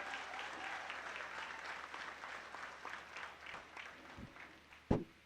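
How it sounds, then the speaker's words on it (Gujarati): A political rally crowd applauds for journalists, steady clapping from a fair distance that fades slightly, with a sharp knock near the end. "પત્રકાર મિત્રો માટે તાળીઓ થઈ જાય"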